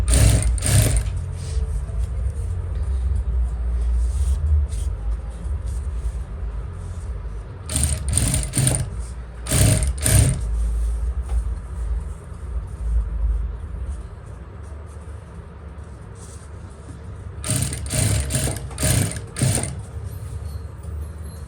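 Sewing machine stitching salwar fabric, a quiet steady hum broken by three fast, loud clattering bursts of stitching, close by.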